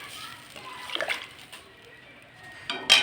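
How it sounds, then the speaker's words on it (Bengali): Water is poured into a pan of potol (pointed gourd) curry to make a thin gravy: a few brief, soft splashes and sloshes, quiet overall, with some voice in the background. "এবার জল দিয়ে দেবো, একটু পাতলা পাতলা করে ঝোল করব।"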